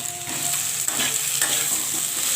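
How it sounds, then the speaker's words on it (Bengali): Cauliflower and potatoes being sautéed in hot oil in a pan produce a loud, continuous sizzle close by, with a few scraping stirs of a spatula. "এখন নিয়ে নেবো ফুলকপি আর আলুটা। তো এর সঙ্গে আমি আলুটা কষিয়ে নেবো।"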